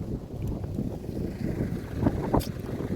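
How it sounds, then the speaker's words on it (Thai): Wind blowing steadily on a hot day at a waterside spot, a continuous low rumbling buffet with gusts across the microphone, no voices. "มีลมอยู่ครับ"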